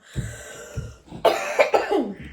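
A person coughs close to the microphone: two short coughs, then a harsher run of several coughs.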